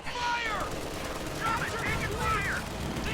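Grenadiers firing rifle grenades amid continuous gunfire in a WWII strategy game, with a dense, unbroken rattle of battle noise and overlapping whistling and crackling effects throughout.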